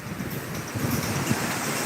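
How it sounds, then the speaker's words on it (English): Steady wind gusts buffet the microphone outdoors during independence celebrations in St Vincent, a continuous low rumbling roar with broadband hiss and no speech, filling the whole stretch. "This is rather windy and so forth."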